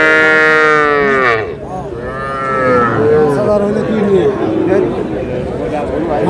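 A young bull lows loudly and close at a busy cattle market, with long drawn-out moos rising and falling, while people talk and bargain nearby throughout.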